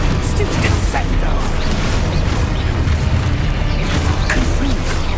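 Heavy booming impacts from the Descendo spell slamming down in Hogwarts Legacy, several rumbling crashes in a dense, loud stretch with a shouting voice partly over them.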